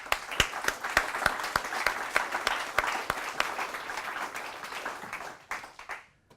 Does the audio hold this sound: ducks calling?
no